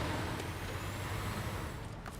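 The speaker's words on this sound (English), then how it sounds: "I'm just gonna get this truck" A truck engine in SnowRunner drones steadily while an air brake hisses loud and close throughout the brief stretch, with no talk.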